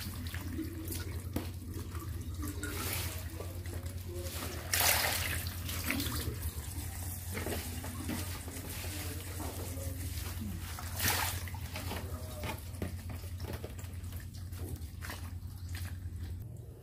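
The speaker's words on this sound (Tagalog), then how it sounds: "Hugasan natin lahat." Alugbati (Malabar spinach) leaves are washed under a running kitchen tap: a steady gush of water into a sink, broken by louder splashes and clatters as the leaves are handled, with no talking.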